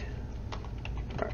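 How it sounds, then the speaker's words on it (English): Quiet, rapid clicking of keys on a computer keyboard as a domain name is typed in, a few soft irregular taps close by with no talk. "you're gonna start typing it in"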